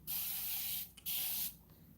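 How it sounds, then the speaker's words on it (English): Two quick hissing bursts from a fine mist spray bottle of water onto hair during detangling, each lasting under a second, close and clear against a quiet background. "I like to use a fine mist spray bottle like this one. The mist comes out very fine."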